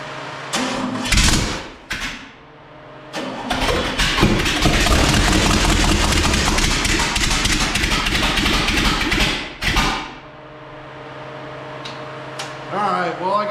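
A rat rod engine with a tunnel ram intake cranks in short bursts, then catches and runs roughly and loudly for several seconds before cutting out, with brief clatter and voices around it.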